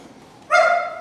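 A crosstalk performer on stage in Nanjing imitates a dog's bark with his voice, a single short, bright, tonal woof that comes abruptly after a quiet moment and fades away.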